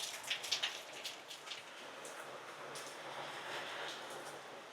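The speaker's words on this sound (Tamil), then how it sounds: "ஐயோ மழை வேற போட்டு படுத்தி எடுக்குதுங்க." Steady rain falling outdoors, a soft even hiss of drops on surfaces at moderate distance, with a few brief sharper taps near the start and no voices.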